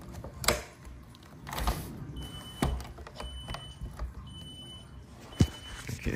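An Ademco Vista 10SE home security alarm sounds from a basement during a backup battery test, faint and distant, with thin intermittent tones among scattered clicks and handling knocks nearby.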